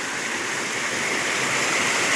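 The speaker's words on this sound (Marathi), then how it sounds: "तर हे धबधबा एकदम रूप धारण करतं" A forest waterfall running with low water roars in a steady, dense rush, close and continuous with no voices.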